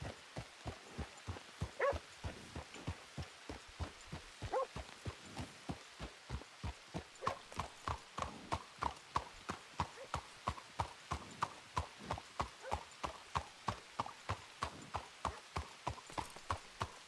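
Horse hooves clip-clop steadily in the western roleplay game RedM, sounding as a loud, even trotting rhythm of sharp hoof strikes that carries on with no break through the whole stretch.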